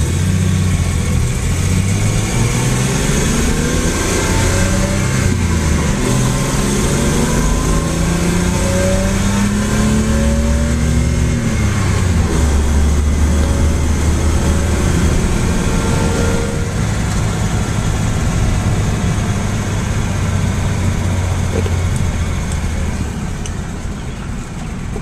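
A Datsun 240Z's engine hums and rises through the revs while driving, loud and close, with audible pitch sweeps as it accelerates and shifts, then a steadier drone under constant road and cabin noise.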